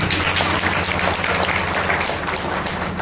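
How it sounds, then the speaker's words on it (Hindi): Audience applause for the girls at a talk on education, a thick, even roar of many clapping hands that continues unbroken from start to finish. "विशेष तौर पर मेरे लिए यहाँ पे बच्चियों के लिए एक बार तालियां बजाया जाना चाहिए"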